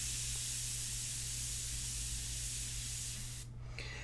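An airbrush sprays India ink onto paper as a soft, even hiss held for about three and a half seconds, then it briefly cuts off and resumes faintly.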